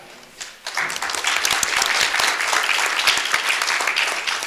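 A school district board meeting audience claps for a student called up by name, starting after a brief pause and holding steady as a dense, moderately loud wash of hands.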